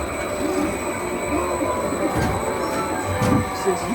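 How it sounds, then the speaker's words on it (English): Magnetic levitation commuter train in a Walt Disney World ride scene, gliding with a steady whirring hum and high tonal whine, plus soft thumps and clicks, moderately loud throughout. "You'll be able to keep working on a commuter train that runs on magnetic force."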